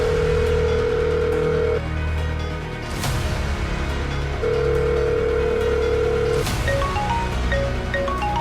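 A phone ringback tone plays over speakerphone, two long steady beeps separated by a gap, with a louder burst of noise between them and a short series of small tones near the end.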